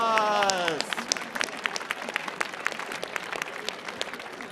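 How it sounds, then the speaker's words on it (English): Applause from a theater audience at an improv wellness workshop, a brief spoken line dissolving into a burst of scattered, moderately close hand claps that carries on steadily to the end. "And give yourselves a round of applause."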